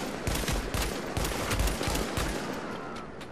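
Rapid bursts of automatic gunfire in a Dark Zone firefight in The Division video game, with dense overlapping shots throughout the clip and no talk.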